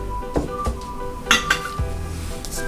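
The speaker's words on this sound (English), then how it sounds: "Now I'll mix everything together." Tabbouleh salad ingredients are tossed together in a bowl, with a few close utensil clinks and scrapes against the dish, spaced irregularly over a low kitchen hum.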